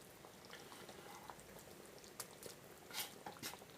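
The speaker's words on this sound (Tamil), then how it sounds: "ரெண்டு நிமிஷம் அப்படியே கொதிக்க விட்டுடலாம்" Quiet bubbling and popping of a pot of soya kola urundai kuzhambu, a Tamil curry, simmering close by, with scattered soft plops and hisses and no talking.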